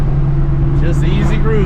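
A 1987 Saleen being driven gently with a new TKX transmission and clutch, giving a loud, steady engine drone up close; a voice speaks briefly over it.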